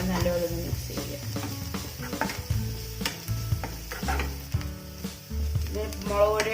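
Turmeric and chili powder fry in a pan for mushroom thoran while being stirred, giving a steady sizzle with scraping strokes under louder background music.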